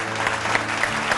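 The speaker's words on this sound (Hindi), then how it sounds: "जोरदार तालियों के साथ अभिनंदन कीजिएगा" A studio audience claps to welcome a guest, Suraj S. Jhawar of Maharashtra, onto a stage show. The applause is brief, steady and moderately loud, with a faint murmur of voices underneath.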